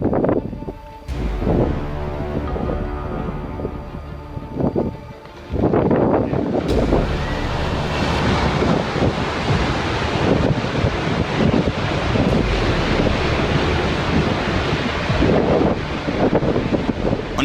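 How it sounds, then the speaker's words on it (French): Glacier ice breaks away near the Argentière ski area in the French Alps and crashes onto rocks, a heavy, rumbling roar building and sustaining amid loud buffeting wind. "le bruit du vent et de la glace s'écrasant contre les rochers"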